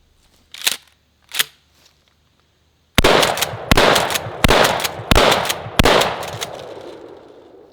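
Five rapid, loud shotgun blasts from a Panzer BP-12 G2 semi-automatic bullpup 12 gauge, fired in quick succession with sharp reports and ringing decay, after two softer clicks of handling.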